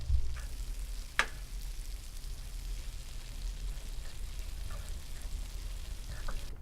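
Onions frying in a pan in a student flat kitchen, a steady low sizzle hissing continuously with one sharp clink near the start and a few faint knocks, no voices.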